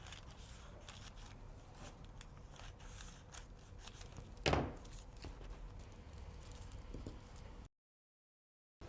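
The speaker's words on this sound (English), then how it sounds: "I need to cut the shoulder dart." Scissors cut a paper dress pattern along the shoulder dart: one crisp, close snip stands out above a quiet, steady room hiss, with no talking.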